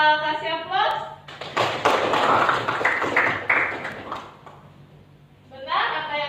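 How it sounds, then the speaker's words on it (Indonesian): A classroom of students applauds together, a dense burst of clapping lasting a few seconds, framed by a teacher's voice speaking before and after. "Kita kasih aplaus."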